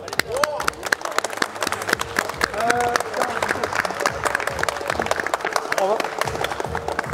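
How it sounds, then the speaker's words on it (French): A crowd at the AllBars Games street workout competition claps and cheers, a busy patter of hands with scattered shouts and voices underneath, steady throughout. "On peut les applaudir s'il vous plaît."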